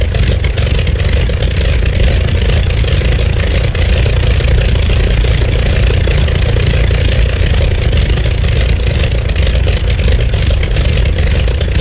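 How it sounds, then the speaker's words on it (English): Loud, continuous five-cylinder radial engine drone of an Avia BH-5 in a flight simulator, thumping and clattering steadily throughout with no pauses or voices. "I really do like the sound of that 5-cylinder radial"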